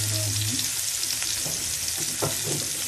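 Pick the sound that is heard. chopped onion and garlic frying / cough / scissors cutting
chopped onion and garlic frying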